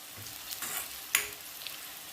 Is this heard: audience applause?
no